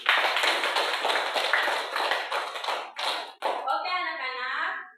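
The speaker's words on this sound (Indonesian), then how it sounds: "kita beri aplaus dulu." A classroom of students gives a round of applause: steady, dense hand clapping for about three seconds, then a teacher's voice speaks as it fades.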